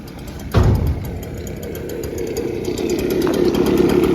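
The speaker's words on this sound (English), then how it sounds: "it wants to stall when you pull in the throttle" A free chainsaw with a running but fuel-starved engine bogs when its throttle is pulled, giving a sudden loud burst, then a rough, uneven buzzing drone that swells again toward the end, close by and alone.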